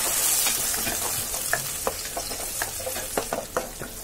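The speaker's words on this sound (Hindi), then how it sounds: "प्याज, टमाटर और हरी मिर्च का पेस्ट डालेंगे। दो मिनट तक इसे भुनेंगे।" A paste of onion, tomato and green chili sautés in a hot pan for a crab masala curry, giving a steady loud sizzle broken by the scrape and clatter of stirring, with no voices.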